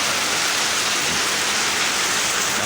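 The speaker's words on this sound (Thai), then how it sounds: "ฝนก็ตกแล้วเนะี่ย" Steady evening rain falls outdoors in rural Thailand, a dense, even hiss of drops on surfaces that stays loud and unbroken throughout, with no voices.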